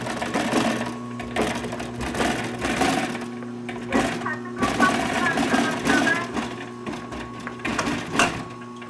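A sewing machine stitches upholstery for a bucket seat in short, rapid bursts of mechanical clatter separated by brief pauses, close and clear.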